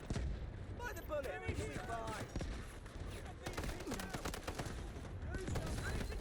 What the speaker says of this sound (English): A recon shooting at us.